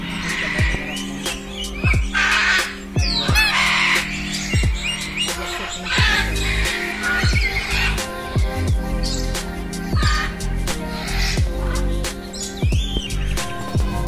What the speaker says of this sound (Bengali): এখানে কালো কাকাতুয়া আছে দেখতে পাচ্ছি।